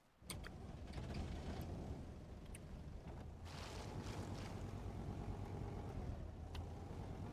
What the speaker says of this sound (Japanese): スタートエンジン。